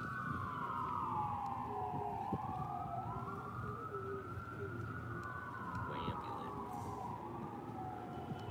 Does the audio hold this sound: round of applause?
no